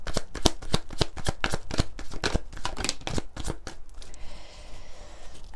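Oracle cards from a Line of Love deck shuffled by hand in a fast run of crisp, rhythmic riffling bursts, close and clear, trailing off into quiet rustling near the end.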